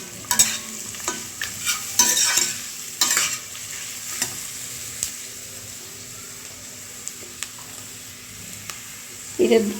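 Cashews and onions frying and being stirred in a pan for a Bengali smoky malai chicken curry, with steady sizzling and repeated scraping stirs, close and moderately loud, with no speech.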